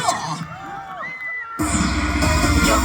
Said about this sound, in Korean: 함성과 박수 먼저 주세요!